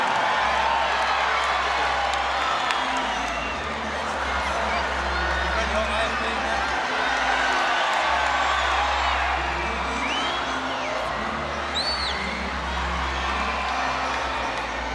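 A large arena crowd at a Roger Federer and Lleyton Hewitt tennis exhibition cheers and whoops, a broad roar with scattered whistles, and a commentator speaks over the noise.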